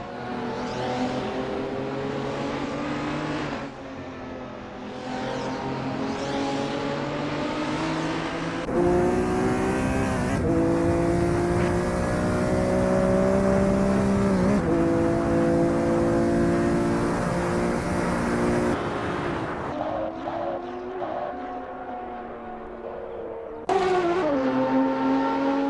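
Video game race cars on the Nurburgring GP circuit before the race, a dense, sustained engine roar with layered cars and abrupt camera cuts shifting the mix, loud throughout and no speech.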